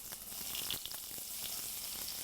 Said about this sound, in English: Now I'm going to fry these up in just a little bit of bacon grease